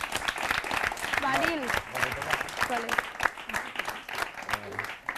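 Audience applause at a Catalan school quiz show, dense clapping throughout with a voice speaking over it near the start and again later.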